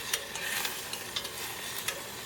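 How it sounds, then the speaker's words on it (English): Vegetables sautéing in a pan before black beans go in, a continuous bright sizzle with a few light clicks of stirring, close and fairly loud. "Get that stuff sauteed down a little bit"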